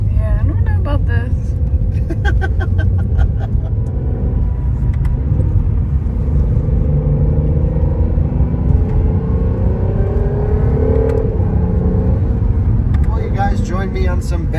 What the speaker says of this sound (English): Join me on some better roads in the NSX now